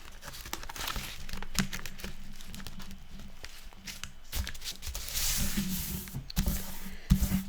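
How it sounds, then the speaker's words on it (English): Paper being folded in half to form a junk journal signature, with close, soft crinkling and rustling handling noises running throughout and a few sharper creasing bursts near the end. "So what I'm going to do is I'm going to fold it in half,"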